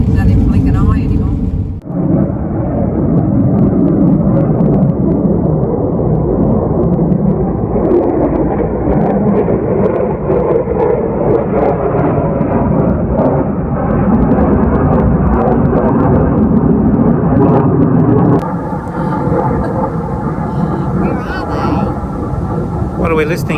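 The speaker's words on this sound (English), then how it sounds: "Are they FA-18s? I think so. Hornets? I don't know. Fighter planes." Loud, continuous roar of FA-18 Hornet fighter jets passing overhead, with a rumbling low-frequency drone that swells and persists, and voices talking faintly beneath it.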